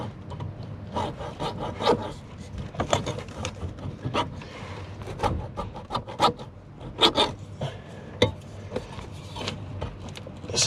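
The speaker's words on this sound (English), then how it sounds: "Hacksaw, old school." Hand hacksaw cutting through material in a cramped space during electrical work, a steady back-and-forth rasping of irregular strokes, close and moderately loud, with no talking.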